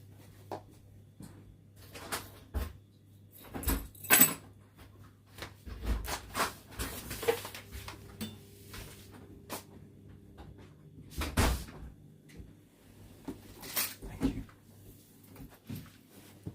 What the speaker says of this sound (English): let me just get the door